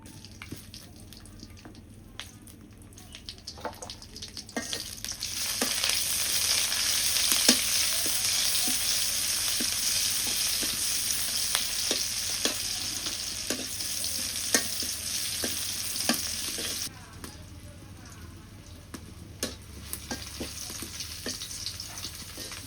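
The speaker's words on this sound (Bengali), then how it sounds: "রসুন কুচি দিয়ে দিই।" Chopped garlic frying in hot oil in a village kitchen, a continuous sizzle that swells loudly midway, with occasional stirring clicks and scrapes over a low background hum, then drops back to quieter sizzling.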